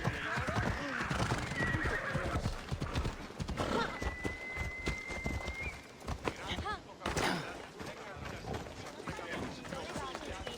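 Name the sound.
horse galloping with hooves clip-clopping, from video game Assassin's Creed Odyssey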